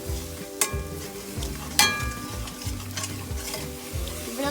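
Spices get stirred into tomato sauce sizzling in a pan for paneer tikka masala, with a close spoon scraping in short repeated strokes over a steady fry hiss and two sharper clinks; nobody speaks.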